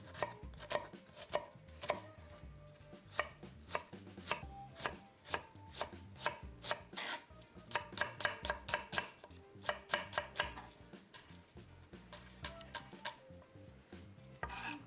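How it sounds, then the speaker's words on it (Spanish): An onion is chopped with a knife on a board for pasta with sobrasada, a long run of quick, close, crisp chopping strikes, some in fast bursts and others spaced apart, with no talking. "y picamos la cebolla"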